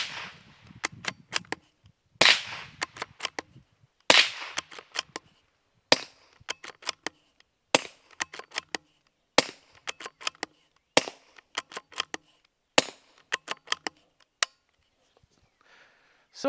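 Supersonic .22LR rounds fired through a Hush-Point .45 silencer give sharp, loud cracks in quick bursts of three to five shots, each burst followed by a short pause, repeated about nine times.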